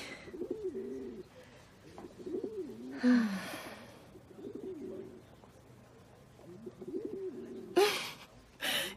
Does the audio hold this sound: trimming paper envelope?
no